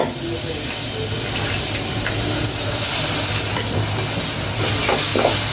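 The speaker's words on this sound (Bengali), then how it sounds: "শুটকিটা একটু ভাজবো" Dried shrimp frying in a pan for a pumpkin dish gives a loud, steady sizzle and hiss close up, with stirring scrapes throughout and some brief talk.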